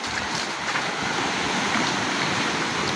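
Sea waves washing steadily over a rocky island shore, a loud, continuous broadband roar with wind mixed in and no clear breaks between surges.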